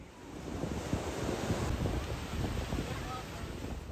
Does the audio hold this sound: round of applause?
no